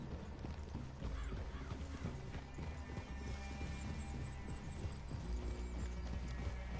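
Horses walking in a video game, steady hoof clip-clop under a dense, continuous game soundscape with music and ambience throughout.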